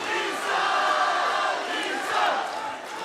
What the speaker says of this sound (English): I can barely hear myself think over this crowd